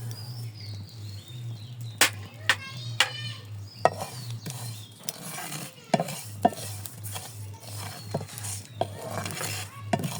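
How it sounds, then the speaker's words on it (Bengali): Black cumin seeds frying in a pan, with repeated scraping and clinking of a stirring utensil against the metal over a soft sizzle and a steady low hum. "এখন আমার কালো জিরে ভাজাটা হয়ে গেছে"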